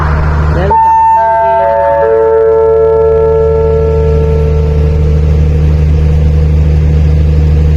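A diesel locomotive sits at Hat Yai junction station with a loud, steady low engine rumble, while a bright multi-tone horn or chime rings out near the start and then fades over the drone.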